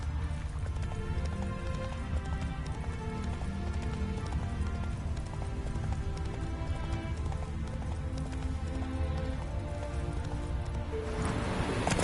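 Roach the horse gallops in The Witcher 3, with steady clip-clop hoofbeats running beneath a dense, continuous layer of game music and ambience.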